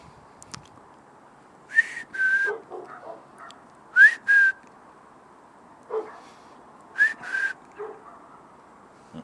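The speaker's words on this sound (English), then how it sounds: "Dogs are barking." Dogs bark and yip in scattered short bursts around a neighbourhood, some calls high and whining, heard at a moderate distance against a quiet background with no talking.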